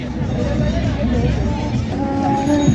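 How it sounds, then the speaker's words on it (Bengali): A toy train runs through a park beside a food corner, its rumble and whistle-like tones mixed into steady crowd chatter and nearby voices. "ওই যে টয় ট্রেন যাচ্ছে দেখো।"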